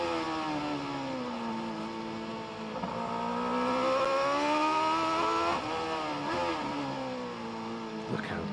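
A racing motorcycle at the Macau Motorcycle Grand Prix free practice rolls off the throttle through a tight bend and then picks the revs back up, its engine loud and close, a steady high whine that dips and climbs again.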